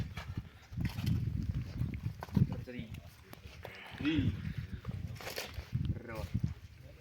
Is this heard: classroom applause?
no